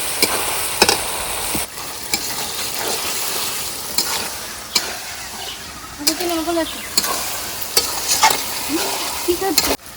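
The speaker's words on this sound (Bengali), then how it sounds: "মশলা কষানো হয়ে গেছে এবার মাংসটা দিয়ে দেবো" Chicken pieces added to a pan of cooked spice masala, sizzling and frying loudly up close while a spoon scrapes and taps the pan with a steady stirring rhythm, and brief voices are heard over the cooking.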